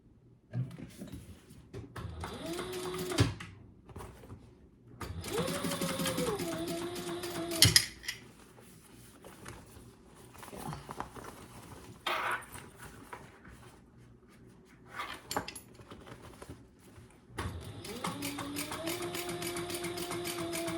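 Sewing machine running top stitching on a crossbody bag, several short bursts of rapid mechanical chatter of varying length with quiet pauses between them.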